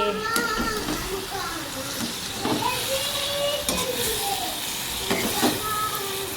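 Vegetable curry sizzles and crackles in a pan as it is stirred, with scraping spoon strokes and background music, steady and close.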